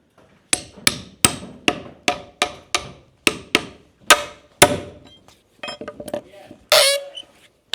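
Nails hammered by hand, a quick series of about a dozen sharp metallic strikes in steady rhythm, close and loud, followed by a few scattered knocks.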